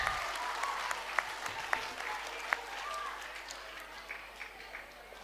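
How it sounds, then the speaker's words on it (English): Audience at a model UN closing ceremony applauding, a sustained wash of many hands clapping with a few sharper individual claps standing out, gradually easing off toward the end. "Can we have a louder applause, please?"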